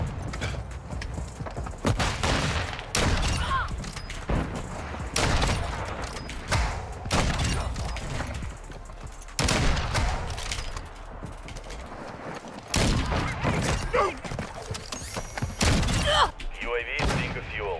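Gunship gunfire in a video game, heavy bursts of shots and thudding impacts recurring at irregular intervals over the whole stretch, with people talking throughout.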